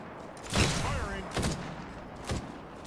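Weapon fire in the shooter Apex Legends: three separate loud bursts spaced about a second apart over a steady game background, each a sharp blast with a brief trailing rumble.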